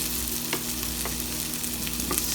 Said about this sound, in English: After they crisp on one side, stir them, flip them, and keep it moving.